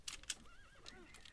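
Horse whinnying in a video game, a short high neigh with rising and falling pitch, preceded by a couple of hoof clops, fairly quiet.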